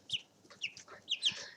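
Chickens in a cage give several quick, close clucks in short irregular bursts, with no talking.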